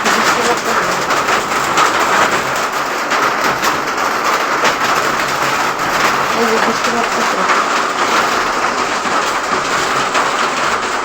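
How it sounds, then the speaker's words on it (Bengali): Steady rain falling outside, a continuous broadband wash of rainfall heard close and loud, with a voice speaking briefly over it. "বৃষ্টি পড়তেছে"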